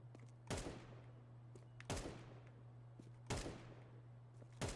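Gunfire in Counter-Strike: four sharp, loud single shots spaced about 1.4 seconds apart, each with a short decaying tail, over a steady low electrical hum.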